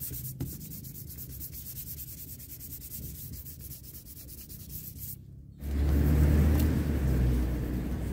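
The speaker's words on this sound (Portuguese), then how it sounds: "Então eu vou lixar aqui com a lixinha 320." Hand sanding with 320-grit sandpaper smooths light scratches in the paintwork of a Volkswagen T-Cross, a steady close scraping rub that runs continuously, then shifts to a louder, deeper rubbing near the end.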